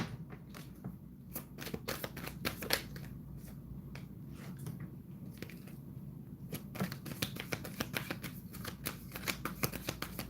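Tarot cards being shuffled by hand, a long run of crisp riffling bursts and soft slaps repeating at a fairly steady rhythm, close and alone.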